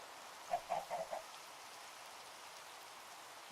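Steady, soft rain hisses quietly through a Minecraft game world, with a few brief chirping game sounds early on and no talk.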